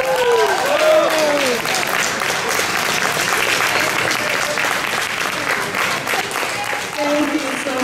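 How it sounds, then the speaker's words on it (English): Outdoor audience at the Astoria Scandinavian Midsummer Festival applauds a Nordic accordion band, steady dense clapping with cheers and voices of people talking and whooping throughout. "Let's give them another round of applause."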